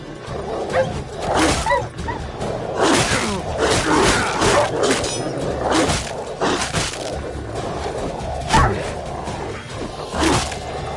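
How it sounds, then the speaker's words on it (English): Several dogs barking and yipping in repeated bursts, fairly close and loud, with overlapping barks and some whimpering between them, no speech. "These dogs been a problem for a while now?"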